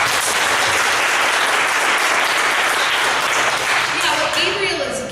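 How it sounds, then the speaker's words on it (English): A crowd bursts into loud, dense applause with some voices mixed in, continuous and close, tapering slightly at the very end. "give him a round of applause"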